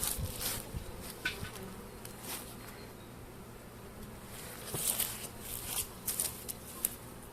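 Bees buzz faintly around a hive, a soft hum with occasional closer fly-bys and light rustling.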